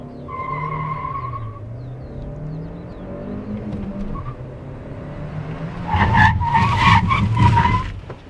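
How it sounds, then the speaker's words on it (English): A Hyundai Creta N-Line with a manual gearbox brakes hard from 70, its tires squealing loudly for a couple of seconds near the end after a steady engine drone, with no talk. "I'm going to drive up to 70 and stand on the brakes and let's see how this Creta N-Line reacts to that."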